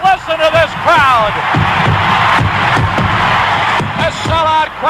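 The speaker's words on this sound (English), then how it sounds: "A sellout crowd is cheering Henry Aaron, the home run king of all time" A sellout stadium crowd roars for Henry Aaron's record-breaking home run as a radio broadcast carries it, a dense continuous wall of cheering and whooping with shrill whistles rising above it throughout.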